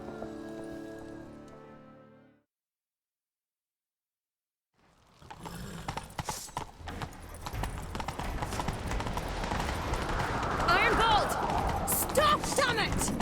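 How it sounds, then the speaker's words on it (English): Hooves clip-clop in a steady galloping rhythm during a horseback chase in The Witcher 3, rising after a short silence and building louder, with game sounds mixed in. "Grab a horse, we'll chase him down."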